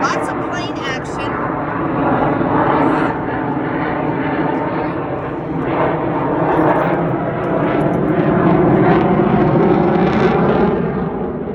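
A fixed-wing airplane drones overhead outdoors at Owl's Creek, Virginia, a continuous loud engine roar that swells and eases slowly over the whole stretch, with people talking nearby.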